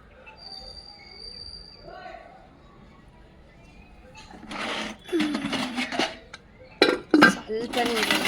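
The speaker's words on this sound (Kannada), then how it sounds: "ಪಾತ್ರೆ ತೊಳ್ಕೊಂಬಿಟ್ಟು ನೋಡೋಣ" Dishes being washed: after quiet murmuring, pots and plates clank and clatter in loud irregular bursts, with running water and a voice talking in between.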